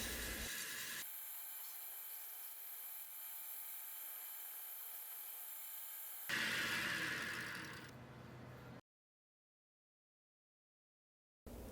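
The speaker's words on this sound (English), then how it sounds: "I'm doing the final shaping with 80 grit sandpaper." A turned wood pen blank is sanded with 80 grit sandpaper on a lathe, a steady close rasping rub lasting several seconds, then a brief harsher burst before the sound cuts to silence.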